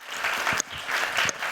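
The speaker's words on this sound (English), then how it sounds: "So if you could just give her a round of applause." Audience applauding at a Black in Design conference session, steady dense clapping that fills the whole moment at moderate volume with no voices over it.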